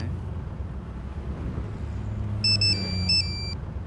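A mobile phone ringtone plays a short electronic melody in two bursts of bright, steady tones over a constant low rumble of traffic and a running car.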